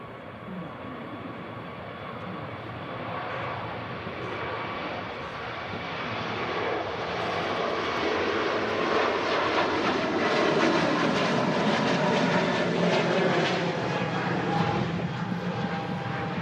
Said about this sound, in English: Turkish Neo on the takeoff roll.